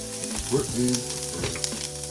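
Onions caramelizing in a little olive oil over medium heat sizzle steadily up close, with scraping and stirring from a wooden spoon bubbling through the hiss.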